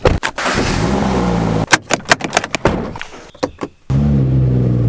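A BMW M4 engine starts and idles with a low rumble, broken by loud clunks and knocks as the car is moved, then settles back into a steady idle.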